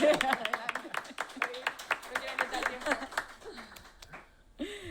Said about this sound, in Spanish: entonces podéis aplaudir